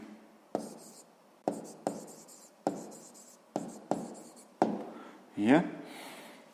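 A pen writes down the answer to a sixth-grade maths exercise in a series of sharp taps and short scratching strokes, about eight distinct marks in quick succession, close and alone in a quiet room.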